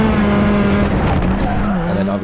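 A race car spins out as its steering locks up under a bridge, tires squealing loudly over a strained engine in a short, continuous burst.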